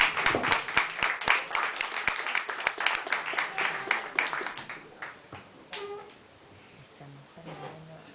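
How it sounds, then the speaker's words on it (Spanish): Audience applause for poets at a café arts space, with crisp, close clapping that starts strong, thins out and fades, after which a few voices and light background sounds remain. "Un aplauso para los amigos"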